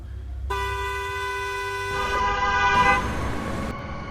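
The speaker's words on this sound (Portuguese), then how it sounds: "o som estridente das buzinas soou" Car horns blare shrilly on a highway curve, a sustained nearby honk with a second horn joining in and overlapping before they cut off one after another.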